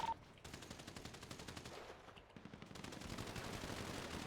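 Gunfire in a competitive shooting video game match, with rapid repeated bursts of automatic fire at moderate distance continuing throughout, fairly faint overall with no talk.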